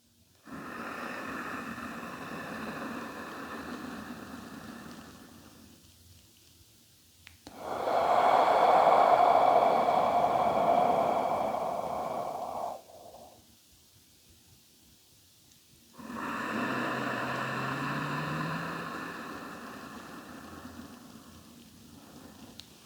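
Slow, deep breaths are taken during a shoulder stretch: three long, close, airy exhales or inhales, each lasting several seconds, separated by near-silent pauses.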